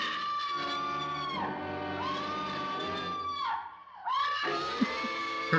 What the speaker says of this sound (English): Her damn scream.